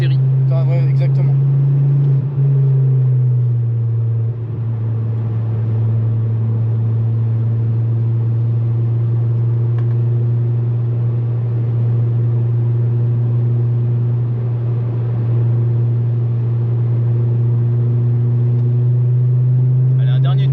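A Ford Focus is driven on a race circuit, its engine a steady loud drone that holds an even pitch throughout and sits close to the listener, with brief rattles at the start and end.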